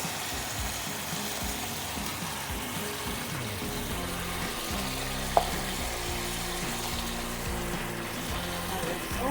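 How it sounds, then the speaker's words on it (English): Rice frying in a pan on the stove, a steady close sizzle that continues evenly throughout, with a single brief clink partway through. "Now that that is frying, I'm going to add our rice."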